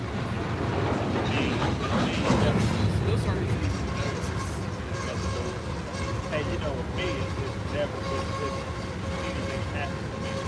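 A Norfolk Southern train rumbles past on a CSX main line at Coffey's Cliff near Chattanooga, a steady broad rolling roar with faint rail clatter running the whole time and no break.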